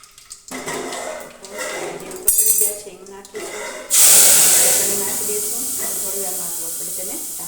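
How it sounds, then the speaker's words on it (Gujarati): Spices hit hot oil for a Gujarati vegetable tempering, bursting into a loud, close, steady sizzle that slowly fades, after a few seconds of utensil clatter and a voice speaking. "બસ હવે આપણે વઘાર કરીશું."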